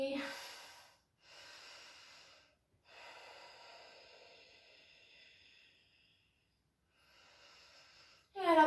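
Slow, deep breathing during a yoga session: several long, airy inhales and exhales close to the microphone, separated by short pauses, ending with a sharper audible breath.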